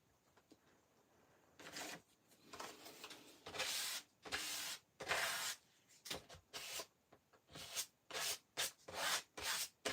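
Paint being scraped across a portrait painting in irregular rubbing strokes, close and fairly quiet, growing into quicker, denser scrapes toward the end.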